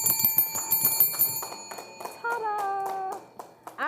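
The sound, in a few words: bells rung during a live auction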